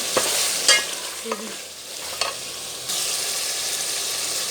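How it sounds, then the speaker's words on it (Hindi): Turmeric and red chili paste frying for aloo gosht gravy: a loud, close, continuous sizzle with a few stirring scrapes of a spoon in the pan, no voices. "1 टीस्पून हल्दी powder, 1 teaspoon red chilli powder यानी कि पिसी हुई लाल मिर्चों का पेस्ट वो डाल दिया। भूनेंगे।"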